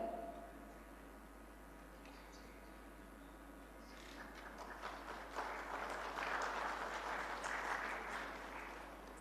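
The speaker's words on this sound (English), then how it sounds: "A big round of applause once again." An audience at the South India Media Summit 2025 applauds. The clapping is soft and distant at first, then swells into fuller, denser applause through the second half.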